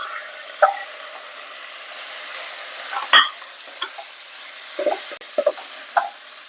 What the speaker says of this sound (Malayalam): ഇതിലേക്ക് നമുക്ക് കഴുകി വച്ചേക്കുന്ന ചിക്കൻ ആഡ് ചെയ്യാം